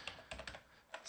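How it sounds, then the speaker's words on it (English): Typing on a computer keyboard while setting up a VPN server: a few quiet, separate key clicks in short bursts, close and alone, with no talking. "here we're going to need to type in server"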